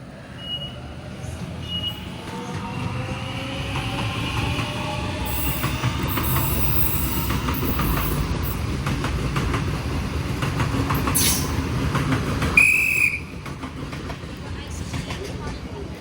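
A train pulls out from platform 1 at Westmead station, a steady rumbling roll with rail clatter and a brief high squeal of wheels, joined near the end by a short loud burst.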